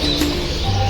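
Sparrows and other caged birds at the Azizia pet market in Riyadh chirp in a steady, dense chatter with thin tonal calls, close and continuous, with no talking.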